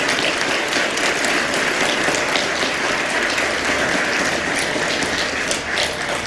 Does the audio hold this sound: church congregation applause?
yes